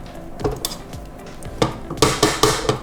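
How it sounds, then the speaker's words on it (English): A mixing bowl holding smooth, fluffy gluten-free and dairy-free strawberry shortcake batter is set down on a counter, giving a few sharp clinks and knocks that grow louder toward the end. "I'll bring the bowl down"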